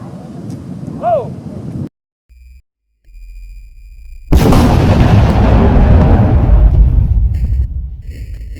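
A musket volley from Civil War reenactors on the Gettysburg battlefield erupts as one loud, sharp blast, then rolls and decays over several seconds amid wind noise, after a short quiet pause.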